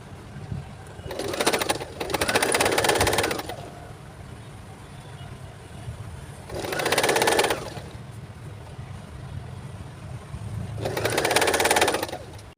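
A sewing machine stitches a newborn baby cap in three loud, close bursts of whirring, each lasting about two seconds, separated by quiet pauses.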